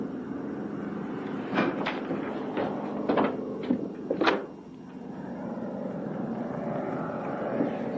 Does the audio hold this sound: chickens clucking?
no